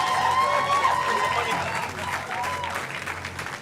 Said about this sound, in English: Let's give another rousing round of applause to our new recruits.